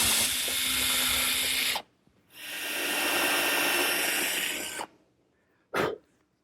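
A power drill bores a hole in a wooden shelf for a dowel pin, two loud, close bursts of whirring, each lasting a couple of seconds with a brief pause between, followed by a short clatter.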